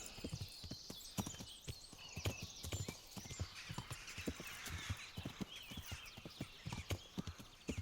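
Horse hooves clip-clop in a steady rhythm while riding along a trail in the medieval game Kingdom Come: Deliverance, close and clear, with a brief whinny and birdsong in the background.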